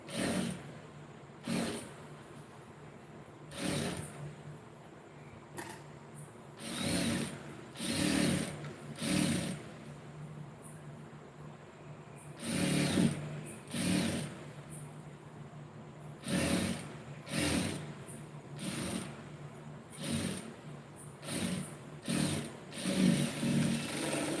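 A sewing machine sews the second row of stitches on a lining blouse, with quiet intermittent mechanical clicks and short runs scattered across a soft, steady background.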